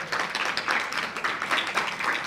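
Audience applause at an evening neuroscience and learning talk event, a dense, steady patter of many hands clapping together for a couple of seconds.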